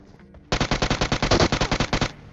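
An automatic gun fires in the mobile game PUBG Mobile as one loud, close burst of about fifteen rapid, evenly spaced shots lasting around a second and a half, with no talking.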